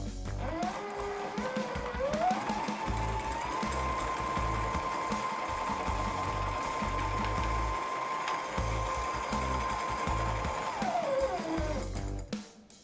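A motor-driven 3D printed compliant harmonic drive actuator turns an attached aluminum bar, its whine rising in pitch, holding a steady hum with rhythmic low knocking and vibration, then winding back down near the end.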